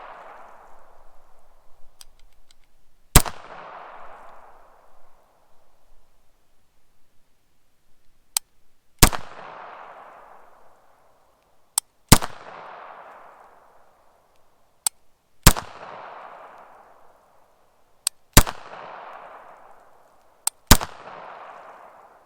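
Sharp gunshots from a Bersa Thunder 380 pistol, eight reports spread unevenly over about twenty seconds, some of them paired close together. Each crack is loud and close, followed by a short decaying ring.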